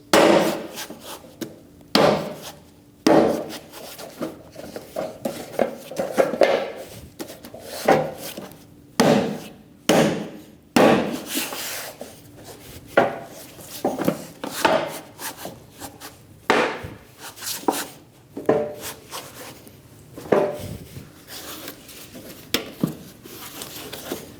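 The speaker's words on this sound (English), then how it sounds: "Line up all the plastic tabs and tap them into place." Plastic tabs of a rear bumper step pad on a Chevrolet Express 2500 van are tapped into place with a string of sharp, knocking hits, irregular singles and quick pairs spread throughout, close and fairly loud with no talking.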